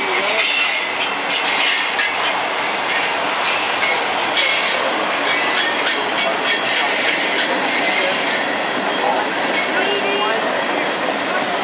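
Loud, continuous rumble and rattle of freight cars rolling past nearby, with high metallic wheel squeals and clatter throughout.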